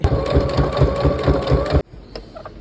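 A sewing machine stitches a letter H onto a Halloween hat, making a fast, rhythmic, close-up chattering run for just under two seconds, then stopping, leaving a few faint clicks.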